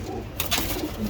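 Soft, low cooing of a belled pigeon at a home loft, brief murmured calls near at hand with a faint rustle, over a constant low background rumble.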